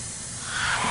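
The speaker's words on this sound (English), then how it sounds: "Who has time to spray paint stuff though" In the horror video game Caged Fear, a can of spray paint hisses in one steady, continuous burst that swells slightly louder toward the end, with no voices over it.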